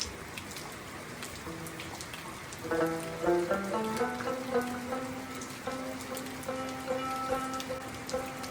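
Steady rain falls and patters on a surface, with scattered drops and a faint tonal hum rising in the middle.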